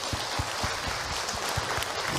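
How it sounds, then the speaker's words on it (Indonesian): Brief applause from an audience at an Islamic religious talk with questions from the floor, a dense steady patter of clapping throughout with low thumping hits. "Tepuk tangan untuk Ibu Nurjana."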